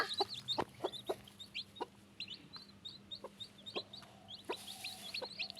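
A hen clucks repeatedly near newly hatched chicks, with short irregular clucks and soft high cheeps close by over a quiet outdoor background.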